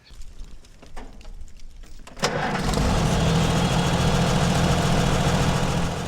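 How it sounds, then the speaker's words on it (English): An Oliver Super 88 farm tractor engine turns over and settles into a loud, steady running drone close by, after a couple of seconds of quieter background sound. "Now that's a Super 88 behind us."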